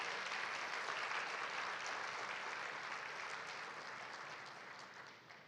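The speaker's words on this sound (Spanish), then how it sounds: "Dale un aplauso a Dios por la vida de la hermana de 86 años." A church congregation applauds together, a soft, distant wash of steady clapping that gradually fades out.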